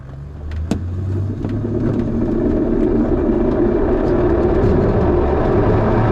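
A Pontiac tow plane rolls for takeoff on a runway at Hollister with a glider in tow, its engine a loud, steady roar building and holding throughout, heard from inside the aircraft.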